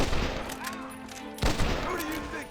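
Gunfire in the video game Red Dead Redemption, a couple of loud shots and a burst of firing amid game noise, with a voice talking faintly underneath.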